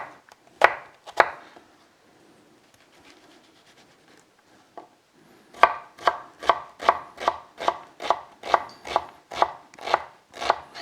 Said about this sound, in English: So now chop all your onions